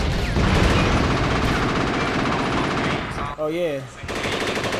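Rapid automatic gunfire from Uzis in the video game Rise to Honor, loud sustained bursts filling the first three seconds, then a short pause and more shooting, with a voice briefly speaking between bursts.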